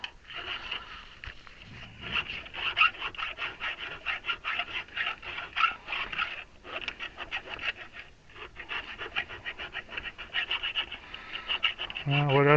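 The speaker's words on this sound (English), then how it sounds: "This is actually a chainsaw file" Rapid, rasping strokes of a chainsaw file scraping against metal continue in an uneven rhythm, close and fairly loud, ending with a brief tonal squeak.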